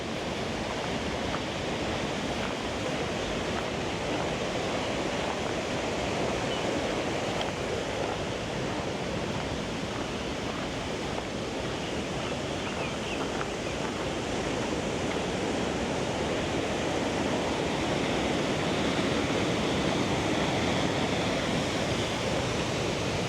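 A river rushes beside a walking trail in Ortisei, Italy, a dense, continuous roar of flowing water that stays loud and steady throughout, with no talking.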